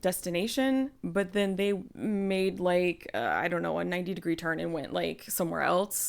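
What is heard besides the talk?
No everyday noise stands out behind the speech.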